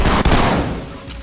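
Gunfire in the tactical shooter game Ready or Not during a hospital raid, a loud close burst with a sharp crack near the start, then a decaying reverberant rumble and a fainter second report.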